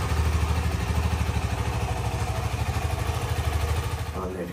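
A motorcycle being wheeled out and started for a trip, its engine idling close by with a steady, rhythmic low throb that runs through the whole stretch, fairly loud and without clear talk.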